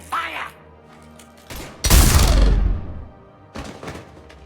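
A short heavy burst of gunfire from Mass Effect 3 on the Citadel, one loud blast followed by a thudding volley, with voices speaking in the game around it.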